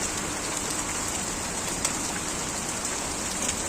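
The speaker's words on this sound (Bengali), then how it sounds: "তবে বৃষ্টির শুরুতে যে পরিমাণ বড় বড় পাথর পড়লো সেই তুলনায় এখন কমছে আর কি।" Steady rain pours down during a hailstorm as the hail eases, a dense continuous hiss with an occasional sharper tap, close and even throughout.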